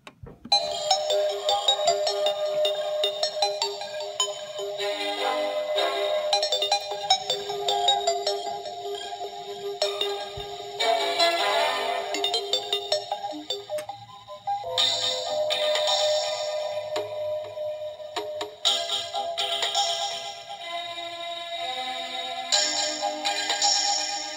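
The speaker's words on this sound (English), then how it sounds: "when you push that, you get the Terraria music" Terraria daytime and nighttime overworld music played from a button on a Terraria multi-level biome toy playset, a tinny, bright electronic melody looping steadily and loudly for the whole stretch with no talk over it.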